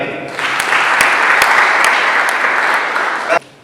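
A live audience at a French-speaking entrepreneurship gathering bursts into loud, sustained applause for about three seconds, dense clapping that stops abruptly.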